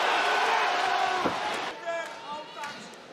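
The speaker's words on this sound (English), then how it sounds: "Everything he throws is greeted with applause here." Arena crowd noise at a cage fight, a broad roar swelling with cheers and applause as a fighter throws strikes, loud and sustained, with a commentator talking over it.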